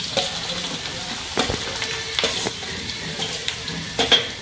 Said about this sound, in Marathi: भेजा फ्राय करूया